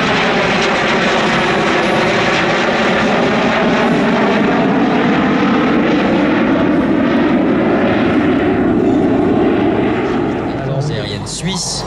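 A vintage propeller airplane flies at the Air Legend 2023 airshow at Melun Villaroche, its engine droning loud and steady for several seconds before easing slightly at the end.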